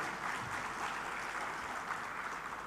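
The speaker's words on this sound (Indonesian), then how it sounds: "boleh tepuk tangan?" Audience applause at an agrarian reform summit in Bali, a steady dense patter of many hands clapping continuously, moderately loud and even throughout with no voices over it.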